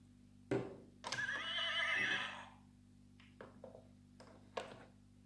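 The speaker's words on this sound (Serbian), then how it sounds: "Ovo je konj." A horse on a farm gives a single loud, drawn-out neigh after a sharp thump, followed by a few faint taps.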